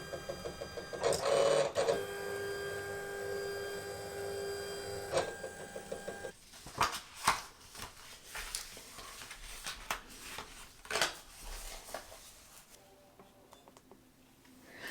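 A Silhouette electronic cutting machine whirs and buzzes as it drives along, then shifts to irregular scraping and clicking as the blade works through paper.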